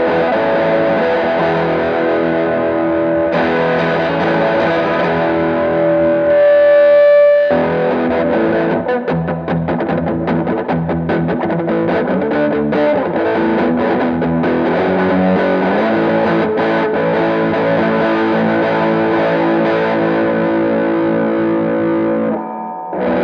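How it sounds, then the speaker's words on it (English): A baritone Telecaster with a Silktone pickup played through a phaser and a Strangle pedal: loud, driven, sweeping tone with sustained chords and busier picked passages running continuously for over twenty seconds, no talking. "I'm gonna try the phase with this strangle on the silk tone."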